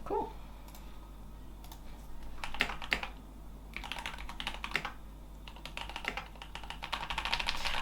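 Typing on a Keychron K8 Pro mechanical keyboard, close and clear: bursts of quick clacky keystrokes in uneven runs with short pauses, no voice over them.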